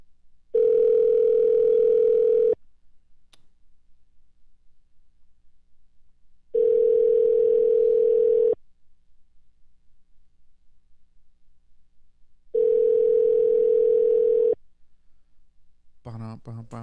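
Unanswered outgoing telephone call, three evenly spaced two-second ringback tones separated by long silences, clear and moderately loud, followed at the end by the start of a voice.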